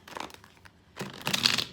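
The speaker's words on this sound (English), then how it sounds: "I think we have shuffled cards enough." Tarot cards are shuffled by hand, giving two short bursts of papery riffling and crinkling, close and fairly quiet, with no one speaking.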